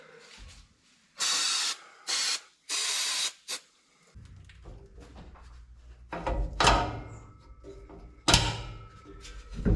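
Lubricant sprayed from an aerosol can onto a stuck part of a wrecked 6.7 F250 truck, in three or four short, loud hissing bursts, followed by metallic clunks and scraping as the part is worked.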